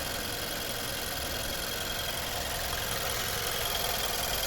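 A 2012 Nissan Juke 1.6 turbo petrol engine idles steadily up close, a continuous even hum with a faint ticking texture and no voices.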